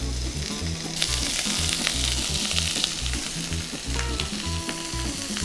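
Blanched butter beans fry in a hot pan with a loud, steady, close sizzle, stirred now and then, and no voices over the crackle.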